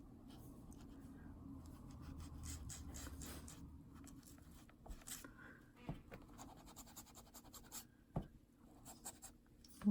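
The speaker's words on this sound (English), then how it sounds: "Sounds like I'm scrubbing, but that's because the paper gives a nice squeaky sound" Paintbrush scrubbing back and forth on squeaky watercolor paper, soft scratchy strokes close up and quiet, with small irregular squeaks and taps toward the end.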